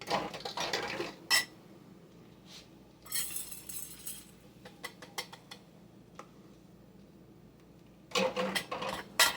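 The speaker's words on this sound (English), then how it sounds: "I'm going to tamp that down to get those into the jar" Celery flakes tamped down into a storage jar: several bursts of tapping, clinking and rustling against the glass, clustered at the start, middle and end, with quieter scattered ticks between, close and alone.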